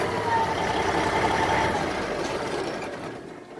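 A 2002 Pierce fire engine with a 14.6-liter Cat diesel, jump-started with a PowerALL XL3, cranks and rumbles in a steady loud diesel roar that eases off slightly toward the end.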